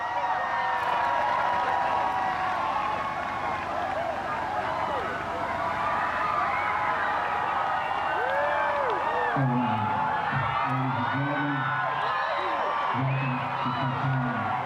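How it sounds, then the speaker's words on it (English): A large crowd cheers and whoops outdoors at Jefferson Barracks as a total solar eclipse reaches totality, with steady roaring noise, voices rising and falling, and some nearby talking in the middle of it. "People are cheering."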